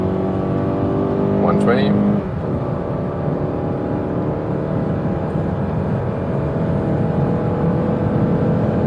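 A Mazda CX-5 in sport mode pulls hard, its engine note rising in pitch, then a gear change and a steady strong drone with road and wind rush inside the cabin, while someone speaks briefly over it.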